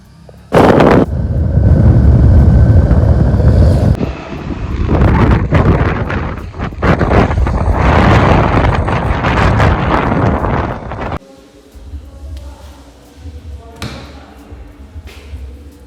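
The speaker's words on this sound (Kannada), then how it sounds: "ಗಾಳಿನೂ ಬರ್ತಾ ಇದೆ, ಬಟ್ ಮಳೆ ಬರ್ತಾ ಇದೆ" Loud gusts of wind buffet the microphone in heavy rumbling bursts during a rainstorm in Davangere, India, then ease to a quieter background with scattered knocks; rain is hard to pick out.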